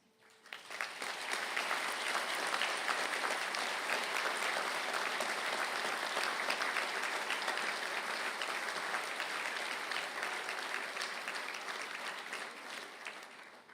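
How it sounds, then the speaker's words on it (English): An audience at a university conferring ceremony in Galway applauds the chemical and pharmaceutical science graduates, a full, sustained round of clapping that swells quickly, holds evenly and tapers at the end. "I call on the graduates of the Bachelor of Science in Chemical and Pharmaceutical Science to stand for a round of applause"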